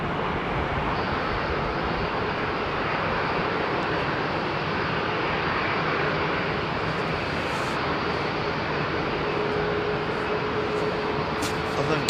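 Airliner taking off from runway 27R at London Heathrow Airport, a loud, close, continuous jet engine roar with rumbling low end, steady for twelve seconds with no voices.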